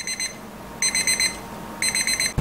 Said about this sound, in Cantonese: 呢度粒掣啪啪咧就可以響鬧鐘噶啦